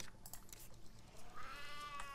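A cat in the survival game Sheltered lets out a short, faint meow near the end, after a few quiet soft taps, with no talk over it.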